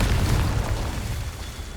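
Confringo explosive spell blast in the Hogwarts Legacy video game, a deep booming burst that hits at once and then rumbles away over under two seconds.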